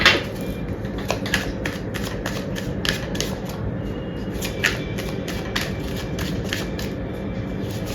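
Tarot cards shuffled and drawn, a steady run of soft papery riffles and crisp flicks repeating close by, with no talk.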